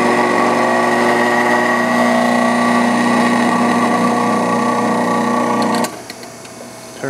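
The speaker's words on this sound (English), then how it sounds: "It's spinning quite nicely. Increase the speed to high." A Fisher Centrific Model 225 benchtop centrifuge spins at high speed with a loud, steady mechanical whine and hum, then cuts off abruptly near the end, leaving a quiet, faint clatter.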